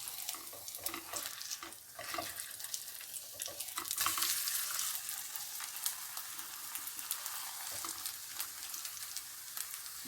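Mooli paratha cooks in a pan on a low flame, giving a continuous soft sizzle with scattered crackles and light scraping throughout.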